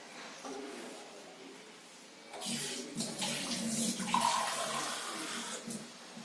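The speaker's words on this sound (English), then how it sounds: "So I'm adding another half glass of water." Water poured from a glass into a pot of moong dal gravy on the stove, a steady close splashing pour running for several seconds after a quiet start.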